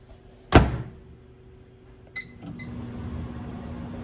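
A single sharp thunk of a microwave oven door shutting, then a short electronic beep and a low steady hum as the microwave starts running.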